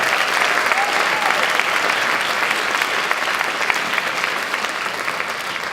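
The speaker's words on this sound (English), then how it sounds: "let's just give them a round of applause" Sustained applause from an indoor crowd honoring high school student athletes at a school awards ceremony, a dense, steady wash of clapping lasting several seconds at even loudness, with no voices standing out above it.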